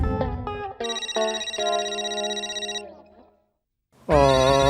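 A telephone rings in a home with a bright electronic ringtone, a rising run of tones followed by a sustained warbling ring lasting about two seconds that fades out, then silence, then a loud new burst of ringing near the end.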